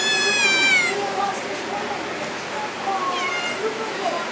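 A black-and-white cat meows several times, drawn-out wavering cries near the start and again later, over a steady background hiss with soft talking nearby.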